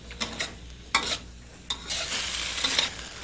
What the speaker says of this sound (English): these pineapples and their little friends, green peppers, etc., are going to be sautéing in our wok